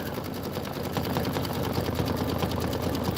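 A Kimberbell embroidery sewing machine stitches a winter design with a quiet, fast, even needle chatter that runs steadily throughout, with no talking.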